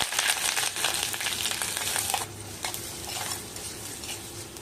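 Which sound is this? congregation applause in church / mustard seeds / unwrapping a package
mustard seeds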